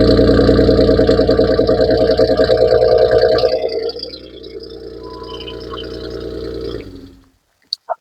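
A Jeep Wrangler engine idles with a deep, throbbing rumble, easing to a lower steady hum before cutting off, followed by two short clicks.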